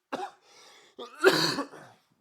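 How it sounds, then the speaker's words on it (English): A person coughs twice, close and loud, the second cough harsher and longer, with some throat clearing in it. "I might cough a bunch tonight"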